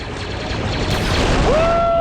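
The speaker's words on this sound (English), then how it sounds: "my scanners show an explosion" Battle sounds from the Star Wars Republic Commando video game: steady, loud, dense gunfire and rumbling explosions, ending in a rising electronic whine.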